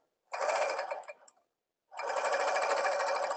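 A sewing machine stitching gathering rows for a tutu runs in two steady, buzzing bursts, close and loud, with a short silent pause between them and no talking.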